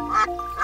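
A duck in a children's cartoon quacks twice, close and loud, with a short nasal call, a brief pause, and a second call.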